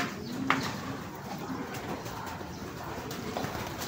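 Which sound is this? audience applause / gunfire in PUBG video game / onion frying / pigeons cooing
pigeons cooing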